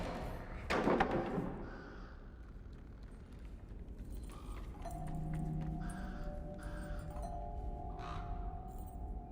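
A crow in Little Nightmares III gives a loud caw early on, followed by faint game ambience and a low sustained drone.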